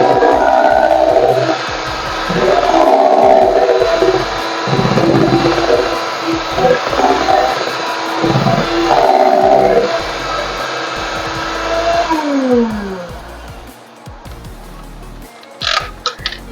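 Electric mixer beating banana cake batter after sunflower oil is added, whirring in uneven bursts with pauses, under a person talking nearby.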